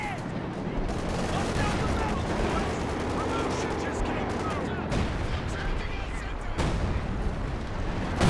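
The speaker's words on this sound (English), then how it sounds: "Direct artillery from the Major there, trying to clear away the MG42." Direct artillery fire in Company of Heroes 2 rumbles beneath dense battle noise of gunfire and blasts, a constant loud barrage with a few sharper impacts, while a commentator talks over it.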